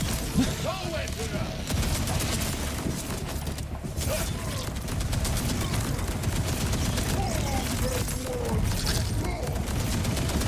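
Borderlands 4 combat in which a player fires weapons at swarming enemies: dense, rapid gunfire and impacts rattle on continuously, layered with chaotic game noise and occasional talk.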